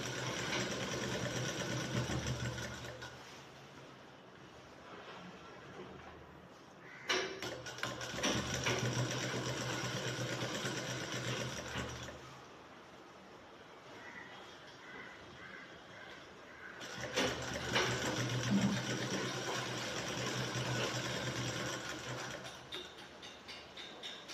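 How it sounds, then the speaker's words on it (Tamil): A sewing machine stitches along the canvas edge of a shirt collar, whirring steadily in long runs that pause briefly and then start again, heard up close. "உள்ள விட்டு ஓரமாக தைக்கிறோம் கேன்வாஸ் ஓரமாக தைக்கிறோம்"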